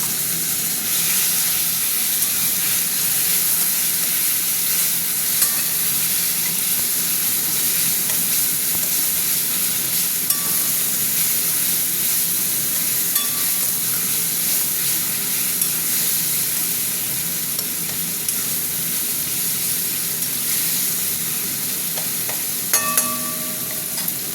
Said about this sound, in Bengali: এবার দিয়ে দিচ্ছি টমেটোটা।